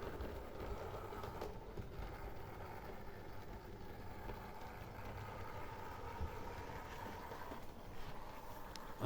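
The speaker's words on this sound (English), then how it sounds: "this type of loco is a very rough runner with the open can motor" A heavy Mehano model locomotive with an open can motor runs roughly and continuously, a faint steady whirring rumble with light rail clicks and no speech.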